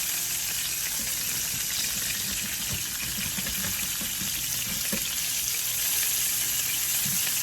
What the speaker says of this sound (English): Salmon's looking good, and we're going to go ahead and flip them.